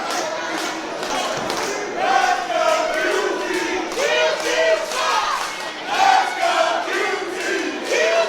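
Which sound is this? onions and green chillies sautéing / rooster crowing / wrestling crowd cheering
wrestling crowd cheering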